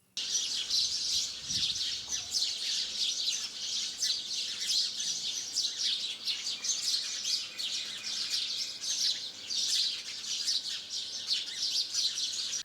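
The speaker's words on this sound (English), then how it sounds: "Sparrows enjoy the water bath." House sparrows chirp busily and continuously while bathing in water, a dense stream of bright, overlapping tweets close by with no voices.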